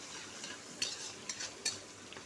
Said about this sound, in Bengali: এবার এটাকে একটু হালকা নেড়েচেড়ে হতে দেবো